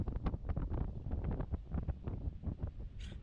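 Strong morning wind outdoors buffets the microphone in uneven, gusting bursts, loud and close, with rumbling rushes rising and falling throughout and a brief hiss near the end.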